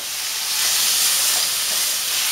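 Strips of veal sautéing in a frying pan, giving a steady, bright sizzle and hiss that swells slightly and carries on without speech.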